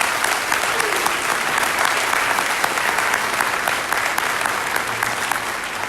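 A crowd applauds steadily for the candidates at a Gastonia candidate forum, with dense, sustained clapping filling the room at an even volume throughout and no voices breaking through.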